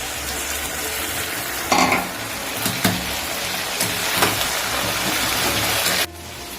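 Coconut frying in a pan with ginger paste added for a Bengali vegetarian khichuri offering, a steady moderate sizzle with a few stirring knocks and a brief louder burst near the start, no one talking.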